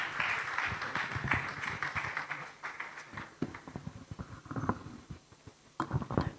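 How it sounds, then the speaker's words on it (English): Audience at an impact investing convening clapping as a speaker walks to the stage, a dense patter of applause that stays moderately loud, then thins into scattered claps. "Please keep clapping until she makes her way to the stage."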